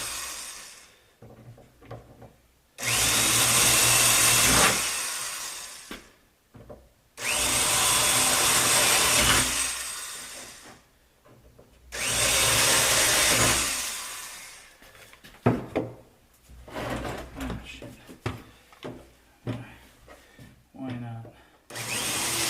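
Three sustained bursts of a power drill boring holes into a wooden sled built for winter camping and ice fishing, each lasting a few seconds with pauses between, followed by lighter handling and rubbing noises; close and loud.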